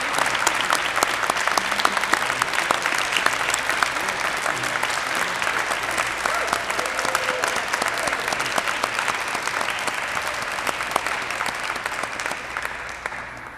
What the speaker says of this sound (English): Can we give them a round of applause for their amazing work?